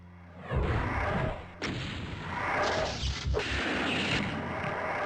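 Heavy BFG weapon in the video game Scythe 2 firing several booming blasts in succession, each a sharp crack followed by a long rumbling decay, loud and close with no speech.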